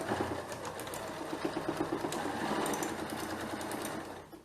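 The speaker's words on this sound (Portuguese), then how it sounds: "Eu vou costurando aqui" A sewing machine stitches a bag with a steady, continuous mechanical whir at close range, running without talk and slowing off at the end.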